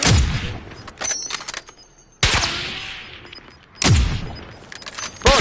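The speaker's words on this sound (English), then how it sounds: "You're shooting at me!" Bursts of gunfire in a Call of Duty multiplayer match: three loud, sharp volleys with rapid automatic shots and booming reports, separated by quieter stretches of scattered distant fire.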